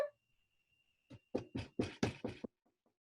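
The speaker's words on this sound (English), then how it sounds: "I hear somebody knocking at the door." Several sharp knocks strike a door in a quick, uneven burst, close and loud after a quiet pause, with a faint steady tone lingering in the background.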